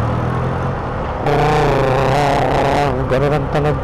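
A Honda ADV150 motorcycle engine runs close by with a deep, steady car-like hum that revs up partway through, loud and continuous, with no one speaking over it.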